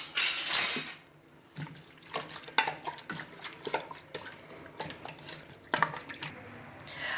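A spoon stirs beef karahi with chili in a cooking pot, giving repeated scraping and clinking strokes at an uneven rhythm, close and fairly quiet after a brief louder sizzle at the start.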